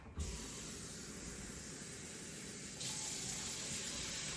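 Water streams into a pan with a little oil on a lit burner while cooking pepper steak, a continuous close hissing pour that grows slightly louder partway through.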